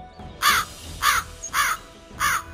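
Four loud, harsh crow caws spaced evenly about half a second apart, each a short rasping call standing alone over a quiet background, with no talk.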